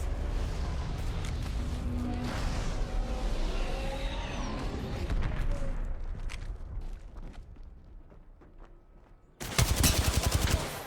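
Rapid automatic gunfire rattles continuously through a video game match, dense bursts layered over engine-like rumble, ending with a sharp, louder volley of shots at close range.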